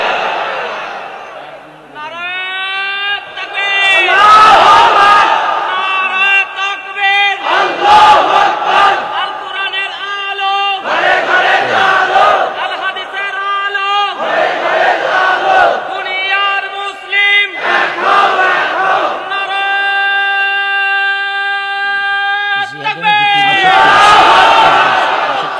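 A large crowd at a Bangla Islamic religious sermon gathering chants the Nara-e-Takbir slogan in loud, repeated call-and-response bursts, a strong massed roar rising several times with a lead voice in between.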